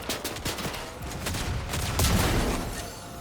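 Rapid gunfire from a Fortnite match in South Park, a dense run of overlapping shots and bursts sounding at mid distance with a heavier swell of firing late on, with no talking.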